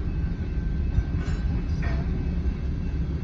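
Freight train passing at Britton Road in Oklahoma City, a steady low rumble of rolling cars with a brief metallic wheel squeal, heard from trackside at moderate distance.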